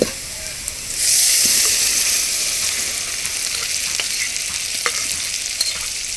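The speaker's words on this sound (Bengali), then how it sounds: "পেঁয়াজ ভাজা শেষ এখন মগজ দিয়ে দেওয়া হচ্ছে" Goat brain dropped into fried onion and spice paste bursts into a loud, close sizzle that then settles into steady frying, with stirring clicks scattered throughout.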